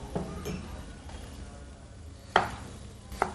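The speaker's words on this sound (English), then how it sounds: "Roughly chopping these." A few sharp knife chops strike a cutting board as tomatoes are roughly chopped, spaced irregularly, with quiet kitchen handling between them.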